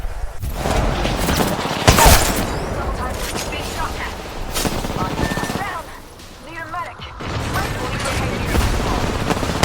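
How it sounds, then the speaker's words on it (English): Apex Legends gunfire rattles in bursts and sharp single shots with some heavier booms, loud and close, while a voice talks over the shooting. "Getting shot at."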